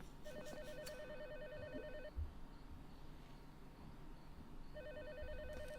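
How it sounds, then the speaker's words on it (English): A telephone rings inside a phone box in the video game Tormented Souls 2, with two clear bursts of an electronic ringing pattern separated by a pause, over a low ambient hum. "head over to the telephone box, use the box cutter to take out the receiver and take the phone call"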